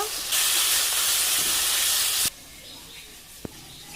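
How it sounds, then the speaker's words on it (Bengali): Turmeric, salt and Kashmiri chilli powder fry in hot oil for a tel koi fish curry, giving a loud, close sizzling hiss for about two seconds before it drops sharply to a low background with a single small clink. "মশলাটা খুব ভালো করে কষিয়ে নেব।"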